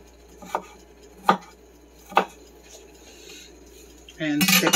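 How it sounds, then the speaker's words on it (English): A knife slices vegetables thinly into fingers on a board, with three sharp separate chops spaced about a second apart, then a louder burst of clattering at the end. "I'm going to go ahead and just thinly slice these into little fingers"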